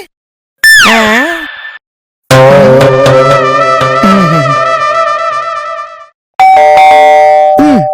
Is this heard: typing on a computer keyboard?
no